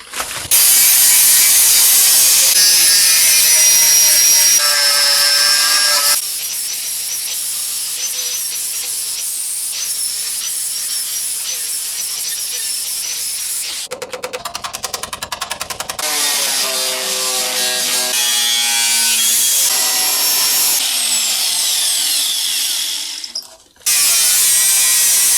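Cutting into the rocker panel of a Mazda MX5 with a power tool: loud, harsh high-pitched grinding and whirring in long bursts, changing pitch as it bites, with brief pauses and no talk.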